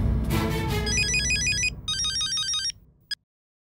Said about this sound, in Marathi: तेच विचारण्यासाठी फोन केला की काय झालं पोपटलालचं